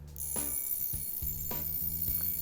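Alarm wristwatch rings faintly and close, a thin buzzing chime with a few soft mechanical ticks and clicks under it, steady for a couple of seconds.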